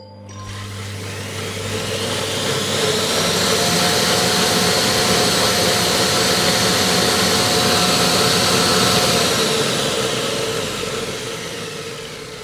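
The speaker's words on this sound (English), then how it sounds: "So let's go for the short cleaning, and I'm going to stop this probably a little bit before because it's super loud." A Lidl Monsieur Cuisine Smart kitchen machine runs its short cleaning cycle with the blades spinning. A loud, broad whirring roar swells up within two seconds, holds steady, then fades near the end, with no voices.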